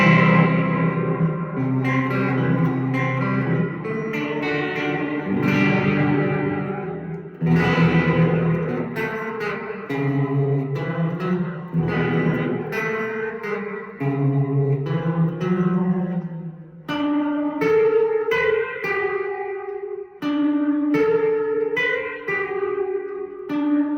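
Electric guitar played through a Catalinbread Sinkhole ethereal reverb pedal set low, about 4: sustained chords and single notes ring out with a spacious, washy tail, loud and continuous with brief pauses between phrases, no talking.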